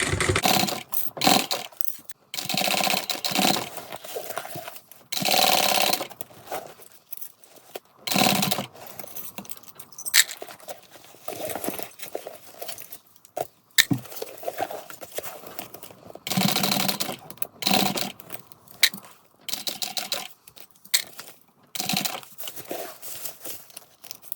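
A sewing machine stitches a handbag in bursts of rapid mechanical whirring, stopping and starting repeatedly, with fabric rustling between runs and no talking.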